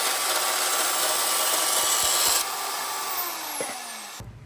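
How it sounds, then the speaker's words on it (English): A bandsaw cuts through 16 gauge sheet metal with a continuous loud, gritty rasp that keeps going for several seconds, then eases and stops abruptly near the end. "I'm just going to cut through here a little bit with the bandsaw."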